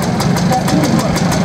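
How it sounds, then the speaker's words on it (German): A DKW two-stroke motorcycle engine runs steadily nearby at a St. Wendel Christophorus Day event, with a rapid, buzzy pulsing rhythm, loud and continuous, with some voice mixed in underneath. "Hören Sie dieses Motorrad mit, DKW war ja eine Firma, die Zweitrakter gebaut hat"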